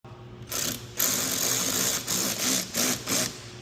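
A power driver running 10mm bolts in to fit splash guards on a fourth-generation Toyota 4Runner, several close, loud whirring bursts separated by brief pauses.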